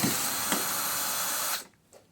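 A power drill or driver whirs steadily for about a second and a half, backing out a screw from the headlight of a 2009 Chevy Equinox, then stops abruptly, with a faint tap afterward.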